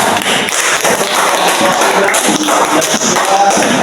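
Students in a classroom applaud, giving a dense, continuous spread of claps and taps at close range that stays loud and steady from start to finish.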